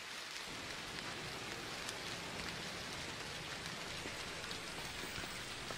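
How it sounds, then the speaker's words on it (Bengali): Steady rain falls for the whole stretch, a dense even hiss with scattered drop patters on nearby surfaces during heavy monsoon weather, no voices. "আবার বৃষ্টি"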